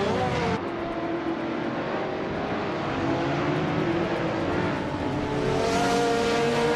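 Race cars in a video game surge off the starting line together, a dense, continuous roar of several engines that rises and swells near the end, close and loud with no voices.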